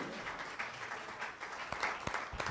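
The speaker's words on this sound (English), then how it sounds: "Nice job with the clapping." Audience applause rings out at a spiritual talk, a quiet, dense patter of clapping with a few sharper, louder individual claps near the end.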